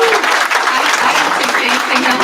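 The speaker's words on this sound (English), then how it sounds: "they deserve a round of applause" Steady, dense applause rises from the audience at a city council meeting, continuous and fairly loud for its whole short span.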